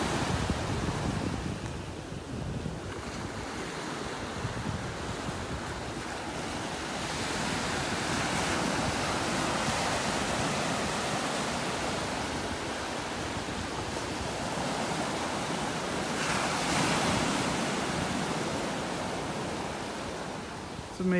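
Ocean surf rolls onto a beach in North Naples, Florida, a steady broad wash of breaking waves with gusty wind, swelling in a few places, no talking heard.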